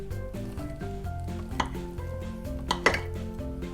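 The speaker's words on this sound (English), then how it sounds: "You can hear all of the sultanas and the cherries all popping as you cut in." A knife cuts into a dense Christmas fruit cake packed with sultanas and cherries, giving a few soft crackling pops and scrapes close up over quiet background music, with no talking.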